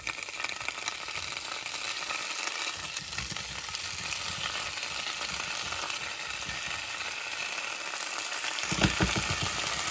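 Ham frying and charring in a hot pan, a steady, close sizzle that runs the whole time with a faint stirring rattle and a slightly louder burst near the end.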